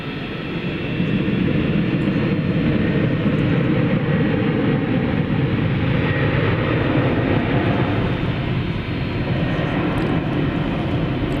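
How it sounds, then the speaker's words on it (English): A UPS Airbus A300 takes off at night from DFW Airport, its jet engines roaring as a loud, steady broadband rumble that swells in and holds without a break. "There is an Airbus A300. This is flight 755 off to Chicago Rockford International Airport,"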